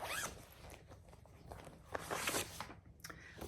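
A zipper being pulled open in a quiet room, several short rasping zips in quick bursts with brief pauses between them, fairly close and alone without talk.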